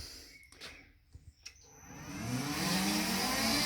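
A three-phase motor driven by a frequency inverter starts up after a few faint clicks, its whine and hum quickly rising in pitch and loudness into a steady, fairly loud drone.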